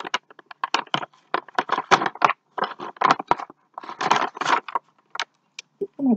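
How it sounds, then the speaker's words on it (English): Scissors or tearing sounds on sheets of paper being cut for an art journal, a quick irregular series of close crisp snips and crinkles with short pauses between them. "So I'm going to start to cut some of the paper."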